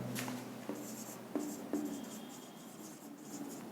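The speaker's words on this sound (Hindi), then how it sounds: "मैं लिख देता हूँ यहाँ पे" Soft marker or chalk strokes on a board as a small number is written, faint scratchy taps spaced across a few seconds over quiet room tone.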